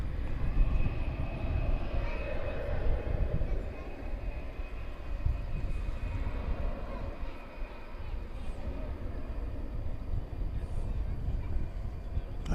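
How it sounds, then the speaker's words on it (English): American Airlines Airbus A319 jet at night at DFW Airport, a continuous moderate engine rumble and roar that dips briefly midway, with a voice talking over it. "American Airlines Flight 2190 going to Silao in Mexico. It's an Airbus"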